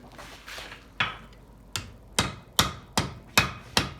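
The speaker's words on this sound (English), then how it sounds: "Now I'm going to use a smaller hammer to spread the flanges more" A small hammer rings on hot leaf-spring steel being forged into a spear head, in a steady rhythm, about eight sharp strikes close by, each with a short metallic ring.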